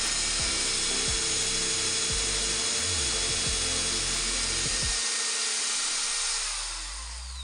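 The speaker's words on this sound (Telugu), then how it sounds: "ఇప్పుడైతే నేను ఒక డ్రిల్ అయితే వేస్తాను." An ibell electric screwdriver set to drill mode whines loudly and steadily as it bores, its motor pitch shifting as it works, then winding down and fading near the end.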